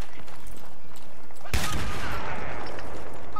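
Sudden loud burst of gunfire at about the midpoint during a 32-versus-32 online shooter match, following a stretch of quieter background game ambience, with sustained noisy firing continuing to the end.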